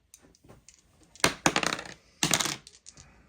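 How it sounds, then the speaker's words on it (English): Four black dice rolled for a Star Wars Legion melee attack clatter across a tabletop in two quick bursts, close and crisp, with light clicks of handling before and after. "so 4 black dice for the melee from the snow troopers into Luke"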